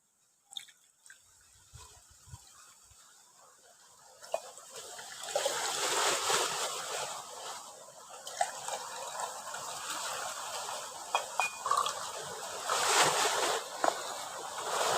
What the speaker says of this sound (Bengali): আমি প্রথমে আমি তরমুজের জুসটা দিয়ে দিচ্ছি